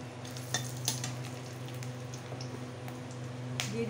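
Dried red chillies, black peppercorns, garam masala and two bay leaves crackle in hot oil, a soft sizzle broken by quick pops and spoon clinks over a low hum.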